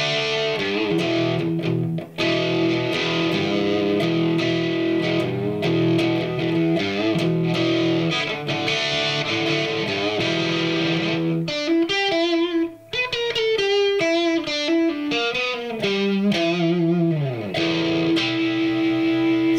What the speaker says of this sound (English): that distortion's a really basic distortion that comes free with the app